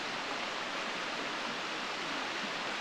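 A steady, unbroken roar of rushing water from a mountain stream in Great Smoky Mountains National Park, a dense broadband wash heard alone with no voices.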